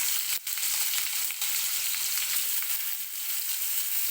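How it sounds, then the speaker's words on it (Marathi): Stuffed ridge gourd frying in oil in a pan, a steady, close, hissing sizzle that holds throughout with a few faint stirring ticks. "छान असं 2 मिनिटं तेलामध्येच आपल्याला हे परतून घ्यायचे आहेत व्यवस्थित असे"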